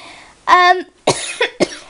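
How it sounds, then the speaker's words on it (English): A short run of harsh coughs, one long and strained, then two or three quicker bursts, close and loud with no talking. "had a cough"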